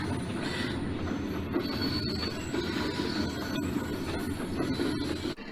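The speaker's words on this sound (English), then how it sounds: "That RS3 unit is making its great Alco sounds" A model Alco RS3 diesel locomotive on a layout rumbles steadily at a distance, its engine drone mixed with faint squealing wheels and rail noise.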